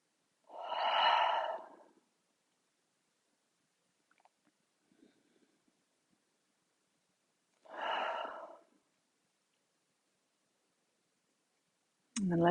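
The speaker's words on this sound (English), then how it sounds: "for 3 breaths, inhale through your nose. Exhale, sigh your breath away." Slow yoga breathing: two long, close breaths drawn in through the nose and sighed out, spaced several seconds apart with near silence between and a few faint rustles.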